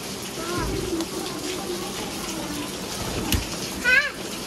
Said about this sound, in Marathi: चला पाऊस आला.